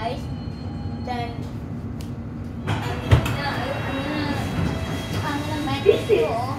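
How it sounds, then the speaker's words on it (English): A London Underground District Line train bound for Wimbledon at West Brompton, with rumbling carriage noise, sliding doors and a few sharp clunks and squeals, while a recorded announcement voice plays over the train sounds. "This is a District Line train to Wimbledon."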